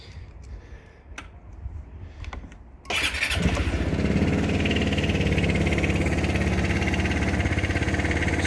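A Royal Alloy TG300S scooter with standard exhaust starts up while on its main stand, first quiet clicks and shuffling, then the engine catches and settles into a loud, steady idle with the rear wheel turning.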